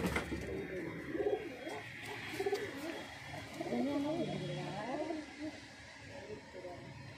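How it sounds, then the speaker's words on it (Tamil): Caged pet pigeons cooing, with soft overlapping coos and low throaty calls repeating through the clip, close and moderate in level, mixed with background rustle and faint talk. "நம்மகிட்டே இருக்கிற புறா"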